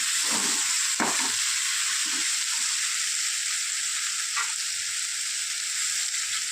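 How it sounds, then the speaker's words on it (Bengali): Prawns and bitter gourd sauté in oil in a pan, giving a steady, close, loud frying sizzle with a few soft stirring scrapes and no talking. "তো চলুন কষিয়ে নিই কষিয়ে নিয়ে আসছি ভালো করে আমি কষিয়ে নিয়েছি তেল ছেড়ে দিয়েছে"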